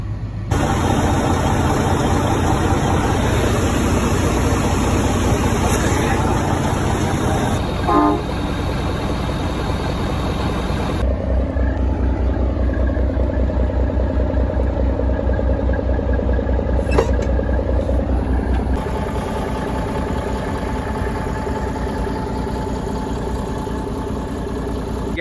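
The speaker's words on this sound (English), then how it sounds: "Got the brand new, well not brand new, new to us, N14 engine in it, Cummins." A Cummins N14 diesel engine in a hay-hauling truck idles loudly and steadily close by, its deep, even rumble holding for the whole stretch with slight shifts in tone partway through.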